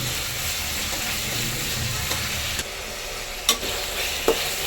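Onions with salt sauté in a pan for veg biryani, making a steady moderate sizzle with a few light clicks of a stirring spoon near the end, with no talking.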